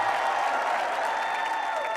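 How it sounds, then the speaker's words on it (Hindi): Studio audience applauding steadily on a Hindi TV comedy show as the guest Dharam paaji is welcomed, a dense, continuous wash of clapping with faint cheering mixed in. "जोरदार तालियां एक बार धर्म पाजी के"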